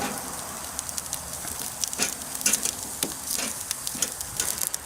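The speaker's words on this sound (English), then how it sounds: "Place the onions and the garlic on a hot grill." Halved onions and garlic bulbs sizzle on a hot barbecue grill, a steady close crackle of frying with scattered sharper pops throughout.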